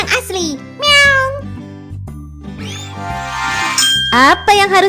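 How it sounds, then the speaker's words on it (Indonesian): A single cartoonish meow rises out of lively music, short and bright, with chimes and tinkling notes around it. "Meow."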